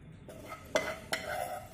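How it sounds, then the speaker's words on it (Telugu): Ginger pieces are dropped into a mixer jar while a ginger chutney is made: two quiet, short knocks close by, about a third of a second apart, over a low room hush. "ఇదే జార్లోకి ఇప్పుడు మనం అల్లం ముక్కలు వేసుకుందాం."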